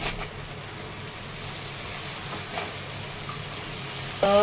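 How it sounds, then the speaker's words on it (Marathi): Potatoes and peas sizzling while being sautéed in a pan with turmeric and salt: a steady, moderate hiss of frying runs throughout, ending with a slightly louder clatter. "बटाटा आणि वाटाणे टाकून घेतलेले आहे. परतून घ्यायचे आहे थोडे"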